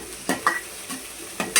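Onions frying in hot oil with curry leaves, a bright steady sizzle punctuated by a few quick scraping strokes of a spoon stirring in the pan, and nobody talks.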